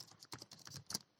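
Computer keys click as Shift and Enter are pressed on a keyboard, a quick cluster of soft, close taps without any voices.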